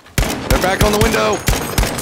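Sharp gunfire bursts from a Battlefield 5 firefight on the Twisted Steel map, several loud cracks spaced through the moment with a voice shouting over the shooting.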